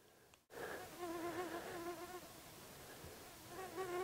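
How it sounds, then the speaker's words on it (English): Moisture bees buzz right up close outdoors in Namibia, a wavering insect drone that starts abruptly and hovers around the microphone, rising and dipping as they circle and land. "these are moisture bees which are attacking me. They're just landing."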